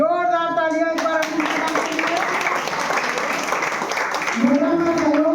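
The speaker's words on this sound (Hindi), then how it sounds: "जोरदार तालियां एक बार" Dense, steady applause from a crowd at a school Teachers Day celebration, filling the whole stretch with a voice talking over it at the start and again near the end.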